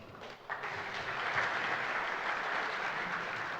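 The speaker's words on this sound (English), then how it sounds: "please take your seats and give him a round of applause" Audience applause for a speaker at a programming conference, a steady broad wash of clapping from a seated crowd that swells after a brief dip and holds evenly throughout.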